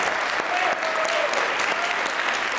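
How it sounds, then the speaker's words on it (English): Audience at a high school winter concert at Whitman-Hanson Regional High School applauding steadily, a dense, even wash of many hands clapping throughout with no gaps. "let's give one more round of applause for all of you"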